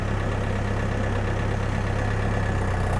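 A DTZ 5404 tractor engine idles steadily with a low, rhythmic diesel chug, close and continuous with no talking.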